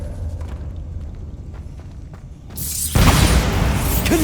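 A Bombarda spell erupts in Hogwarts Legacy as a loud, broad explosive blast that bursts in near the midpoint and rumbles on to the end, after quieter shuffling combat sounds.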